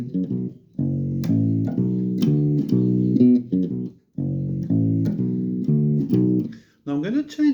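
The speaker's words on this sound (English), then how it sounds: "Really nice bass riff. It works on 7/4 timing" A bass guitar plays a riff in 7/4 time, a clear, close run of low, rhythmic notes repeated twice with a brief gap between passes and a short sliding tail at the end.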